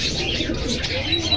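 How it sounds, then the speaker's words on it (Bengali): Pigeons at the Jinjira bazaar pigeon market coo in soft, continuous low murmurs close by, with brief higher chirps mixed in and no voices over them. "পাল্লা লাইনের কবুতর ভাই এটা"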